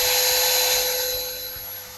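A Dewalt DCD805B 20V Max hammer drill runs on speed 1 in drilling-only mode, giving a steady, close, high-pitched motor whine that holds for the whole stretch and eases slightly toward the end, with no talk.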